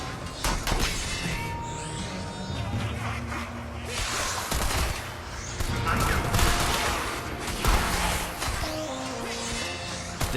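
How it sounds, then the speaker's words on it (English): Turrets fire in the 2014 Strider video game, producing dense bursts of rapid shots and shattering impacts layered over game music, fairly loud throughout. "Got a bunch of turrets going on here."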